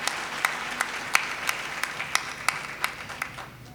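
A church congregation at a Sunday service applauds the worship leaders and musicians, with a dense wash of clapping punctuated by sharper individual claps at roughly regular intervals, moderately loud and sustained.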